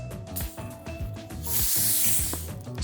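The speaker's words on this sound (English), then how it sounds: "sound as the carbonation escapes, followed by the perfect balance of sweetness and fizz" A Coca-Cola bottle opened with a brief rising burst of fizzing carbonation hiss lasting under a second, loud and close, over a rhythmic musical backing.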